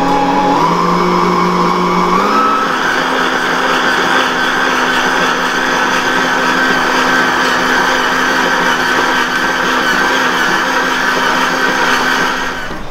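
Stand mixer kneading bread dough for garlic cheese bread with a dough hook, a steady electric motor whine that steps up in pitch early on, then runs at a constant loud drone without talk.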